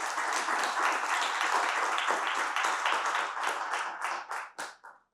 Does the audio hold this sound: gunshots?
no